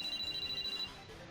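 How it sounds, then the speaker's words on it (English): A phone rings in the Sweet Fuse video game as a steady, pulsing electronic tone repeating rapidly for under a second, fairly faint over a soft background, then stopping. "As we moved closer, my phone began to ring."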